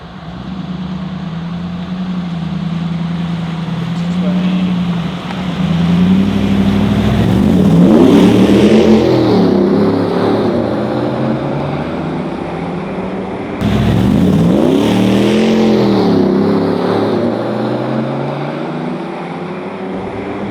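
Two Land Rover Defenders, one with a Chevy LS3 V8 and one with a BMW M57 diesel, accelerate hard from a rolling start in a drag race. Loud engines climb through the gears in two long rising pulls with no talking.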